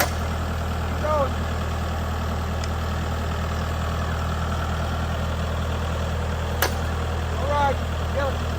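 A tractor engine idles with a steady low diesel rumble, close and continuous, while people talk and shout intermittently nearby.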